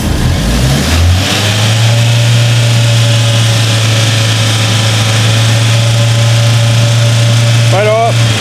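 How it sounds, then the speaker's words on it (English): A Fiat 500 engine is revved while stationary with the heating and lights on, rising from idle into a steady held drone and then dropping back near the end, while people talk over it. "Right, give it a rev there for me."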